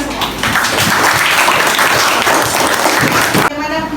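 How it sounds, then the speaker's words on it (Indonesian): Schoolchildren in a classroom clap together for a few seconds in a dense, steady patter, then the applause cuts off and a voice speaks. "Tepuk tangan untuk kita semua."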